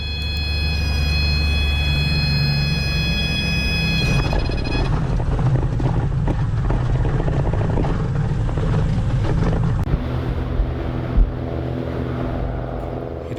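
A small propeller airplane on landing approach with full flaps set hums steadily and loudly from inside the cabin, the engine tone shifting partway through as power changes, with no voices.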